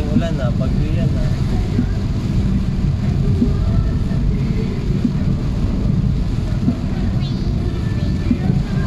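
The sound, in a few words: storm with thunder, wind and rain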